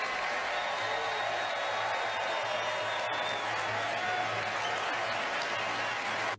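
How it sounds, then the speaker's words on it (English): A crowd applauding in a large hall, sustained and even with a faint whoop or two, while a voice talks faintly underneath. "Everybody, please join me in giving Meryl Streep a totally undeserved round of applause"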